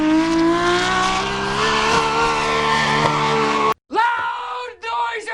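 Nissan S15 drift car with an RB28 engine running nitrous, a loud high-revving wail that climbs steadily with screeching tyres, then cuts briefly before sharp bursts of revving return.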